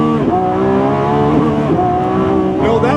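A Lamborghini Revuelto launching hard from a standstill toward 60 mph, its engine note loud and close, a sustained rising roar with layered harmonics that climbs steadily through the whole stretch.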